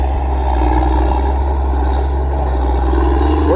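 A log skidder hauls a skid of logs to the landing at a pine pulp logging job, its diesel engine droning loud and steady up close with a low rumble and faint mechanical clatter.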